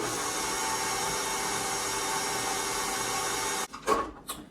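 Red velvet cookie dough scraped and stirred around a mixing bowl gives a steady, rough rubbing noise for about three and a half seconds, then a few short, separate scrapes close by.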